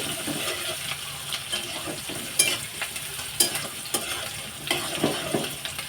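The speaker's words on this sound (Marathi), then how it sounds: "थोडं कांदा टाकून घेतलाय आपण, तो परतून घेऊया" Chopped onion being sautéed for homemade poha, a steady soft sizzle with repeated stirring scrapes and occasional louder clinks of a spoon against the pan.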